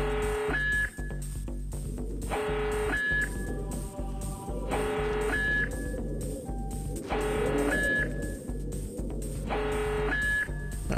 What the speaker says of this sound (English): The alarm has been triggered.